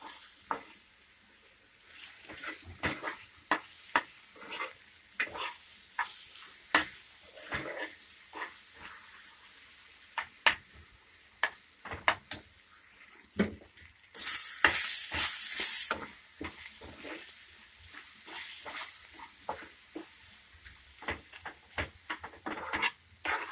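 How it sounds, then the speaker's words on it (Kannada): Beaten egg stirred and fried in a pan over medium flame for egg rice, with a steady soft sizzle and frequent scraping stir strokes throughout, and one brief louder hissing burst partway through. "ಮೊಟ್ಟೆನ ಚೆನ್ನಾಗಿ ಮಿಕ್ಸ್ ಮಾಡಿಕೊಂಡು ಫ್ರೈ ಮಾಡ್ಕೊಳ್ಳಿ 1-2 ನಿಮಿಷ"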